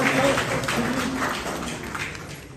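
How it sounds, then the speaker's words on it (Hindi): Loud, dense applause fills a Hindi literary book launch event, a continuous wash of many hands clapping that slowly fades, with faint voices underneath. "एक बार जोरदार तालियां।"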